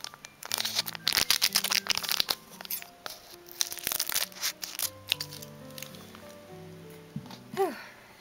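Scissors cut open a plastic blister pack of Pokémon cards close up: crinkling plastic and sharp snipping clicks, irregular and busy, with rustling handling noises in between.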